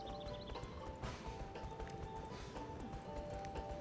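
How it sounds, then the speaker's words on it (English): Horse hooves trot in the I Love Horses: Rider's Paradise video game, a steady, even clip-clop rhythm of repeated hoof strikes over a low background. "Oh, trotting."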